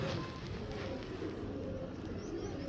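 A domestic pigeon coos softly, low repeated throaty calls set against a constant background hiss, fairly faint and with no speech.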